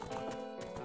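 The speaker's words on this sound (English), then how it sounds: "Oh, horse! Horse!" Horse galloping in the video game Zelda: Ocarina of Time, with quick, rhythmic clip-clop hoofbeats repeating steadily over a continuous game soundscape.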